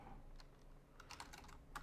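Quiet keyboard typing, a short burst of soft clicking keystrokes over low background hum.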